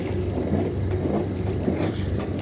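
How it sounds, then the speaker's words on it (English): A sailboat's engine idles while the boat is moored to a buoy off Croatia, a steady low mechanical rumble mixed with wind noise on the microphone, continuous and fairly close, with no talk. "Engine is on."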